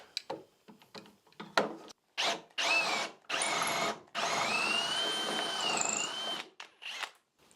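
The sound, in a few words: drill press drilling a hole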